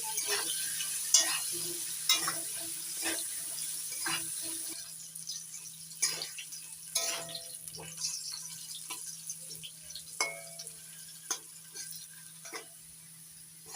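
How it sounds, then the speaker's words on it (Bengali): Potatoes fry in a pan with salt and turmeric while being stirred, a low steady sizzle broken by repeated scraping knocks of the spoon against the pan, close and without talk. "লবণ দিয়ে নাড়াচাড়া করে আলুগুলো ভেজে দিচ্ছি।"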